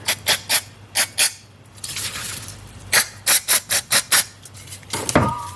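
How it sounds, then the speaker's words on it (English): Short repeated hissing bursts of brake cleaner aerosol sprayed onto disassembled Lexus brake caliper parts, a rhythmic series of quick sprays with one longer spray and a squeaky scrape at the end. "now we're going to give them a good clean inside with the brake cleaner"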